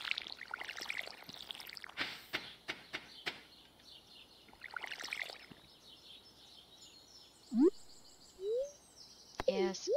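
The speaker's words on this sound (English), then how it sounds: "I forgot I needed to water my plants." Water pouring from a watering can onto crops in the farming video game Stardew Valley, a soft splashing game effect repeated in quick bursts under talk, followed by rising chirpy game sound effects near the end.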